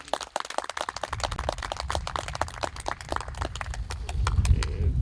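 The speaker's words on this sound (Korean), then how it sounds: "박수 한번 치세요." An audience at a lecture on Dangun in Chuncheon's Jungdo bursts into clapping, many hands beating in a dense, uneven patter that builds steadily, with a low rumble of crowd noise swelling beneath it toward the end.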